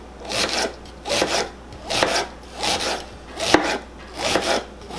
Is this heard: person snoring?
no